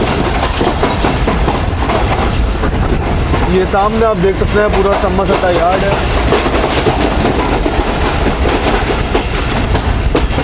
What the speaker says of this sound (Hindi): तकरीबन 7:42 ट्रेन हमारी अप्रोच बना रही है समसट्टा जंक्शन रेलवे स्टेशन पर